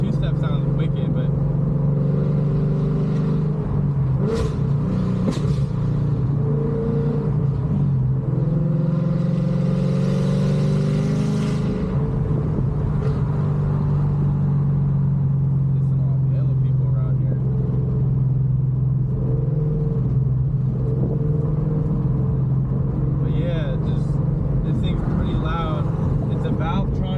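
A 2014 Ford Mustang 5.0 with aftermarket exhaust and an MSD two-step burbles loudly and steadily close by, its deep rumble rising and falling through a few revs with sharp pops along the way.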